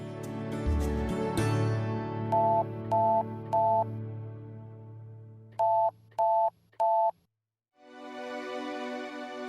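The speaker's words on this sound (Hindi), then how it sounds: "फोन कर लेता हूँ उसे।" A telephone is dialed to place a call: a few low button clicks, then two bursts of three short electronic keypad tones each, a brief silence, and a soft hiss as the line connects.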